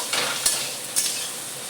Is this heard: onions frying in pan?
yes